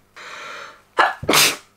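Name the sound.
sneeze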